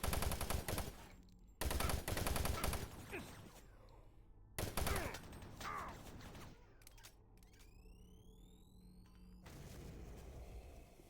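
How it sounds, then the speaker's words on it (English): Machine gun fire in Doom 3 comes in several loud sustained bursts separated by short gaps, with game ambience and mechanical sounds between them. "We'll use the machine gun here."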